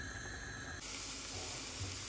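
Rice pudding simmering in a pot as it comes to a boil, a soft, steady bubbling hiss that stays low and even throughout.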